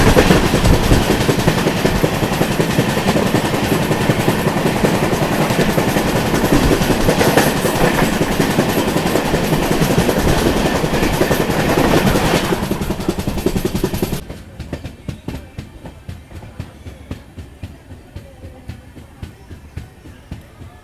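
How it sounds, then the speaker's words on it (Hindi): A Kozhikode–Thiruvananthapuram Jan Shatabdi superfast express thunders past up close, a loud steady roar with rapid clattering of wheels over rail joints for about fourteen seconds, then dropping away abruptly to fainter rhythmic clacking as the last coaches recede. "सामने से आ रही है कोझिकोड तिरुवनंतपुरम जन शताब्दी सुपरफास्ट एक्सप्रेस।"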